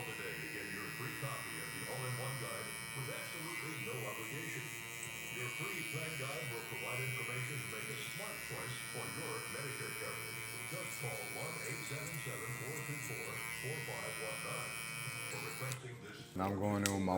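Electric hair clippers with a 1.5 guard and lever closed buzz steadily through a bald fade haircut, a continuous close hum with faint talk beneath.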